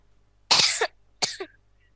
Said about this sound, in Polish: No to czemu kaszlesz?